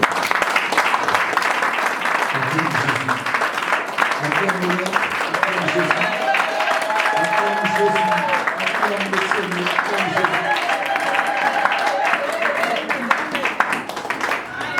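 A church congregation applauding and acclaiming the Lord during a worship service, steady loud clapping from many people lasting throughout, with voices shouting and singing above it.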